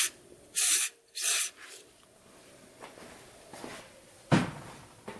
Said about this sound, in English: Now I just hit it with some contact cleaner.